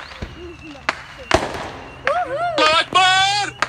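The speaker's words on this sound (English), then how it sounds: "So yeah, they're fireworks." Several sharp firework bangs and crackles go off nearby, with excited voices shouting and calling out between and over the blasts.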